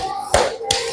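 Two sharp hand claps about a third of a second apart, close and distinct, in a counted clapping game led by a teacher for children, with a faint murmur between the claps.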